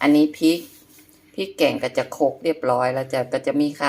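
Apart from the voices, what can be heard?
No distinct noise like a dog, phone or traffic.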